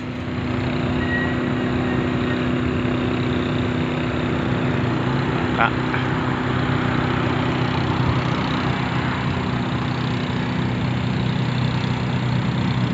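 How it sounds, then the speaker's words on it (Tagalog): Racing vehicle engines running together, a loud continuous mechanical drone with steady low hum, heard close, while a person talks over it. "Pero maingay yung makina niya"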